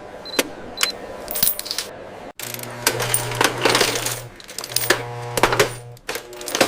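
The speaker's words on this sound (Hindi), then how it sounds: "सिक्के वेंडिंग मशीन में डाले जाते हैं और स्वचालित प्रणाली उन्हें पहचानती है।" Coins drop into a vending machine in a series of bright metallic clinks and rattles, several close together, with a low mechanical hum from the machine running beneath them.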